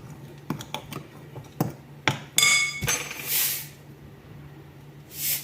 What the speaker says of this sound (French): de levure chimique, on va mélanger le tout